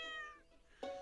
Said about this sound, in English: Yes, I see cat.